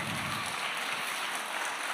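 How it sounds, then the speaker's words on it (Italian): Audience applause at a live event in Ollolai, Sardinia, a steady dense wash of clapping that stays fairly faint and distant throughout. "Nicola Nite, un applauso forte."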